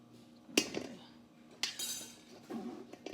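A spoon clinks against a mixing bowl while stirring batter for Jamaican Easter bun, with a few separate sharp taps and scrapes at an even, close-up volume.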